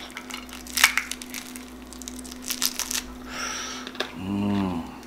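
Several sharp crunchy bites and crackly chewing of crispy pork belly, close to the mic, followed by a brief hum-like vocal sound near the end.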